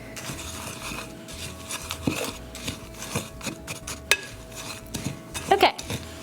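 Dry granola ingredients being mixed in a bowl: scattered light scrapes, rustles and clinks of a utensil against the bowl, with a few sharper knocks, fairly quiet and unhurried.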